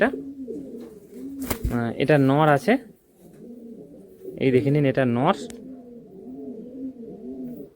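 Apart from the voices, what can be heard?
Andhra pigeons cooing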